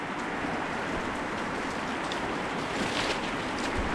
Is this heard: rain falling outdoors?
yes